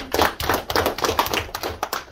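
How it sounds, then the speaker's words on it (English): Sixth-grade classroom applause at a school event, a small group clapping in quick uneven bursts, close and moderately loud throughout. "Let's give her a big round of applause."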